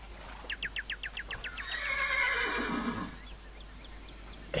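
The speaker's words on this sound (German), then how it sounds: "Blödes Pferd." A horse in Minecraft neighs: a quick rhythmic series of pulsed whinny notes rising into a long drawn-out neigh that tapers off, clear and fairly close, with no talk over it.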